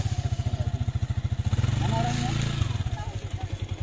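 A motorcycle near a bridge chugs close by in a fast, even pulsing rhythm, swelling briefly as it revs before settling back to a steady putter, with a voice heard faintly.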